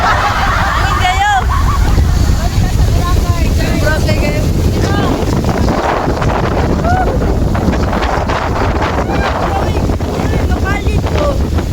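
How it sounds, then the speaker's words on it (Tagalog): Strong wind buffets the microphone in a loud, constant roar, with scattered voices chattering faintly underneath. "Hangin jud kaayo"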